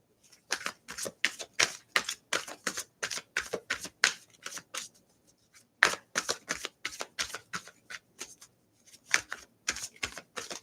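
Repeated crisp riffle shuffles of a tarot deck, close and steady, in quick bursts with a short pause midway; no talking.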